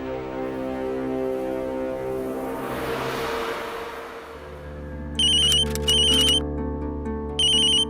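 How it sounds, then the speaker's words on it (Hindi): An electronic ringtone chirps in three short repeated bursts over a steady droning background hum, fairly loud and close. "तुम्हारा फोन आ रहा है"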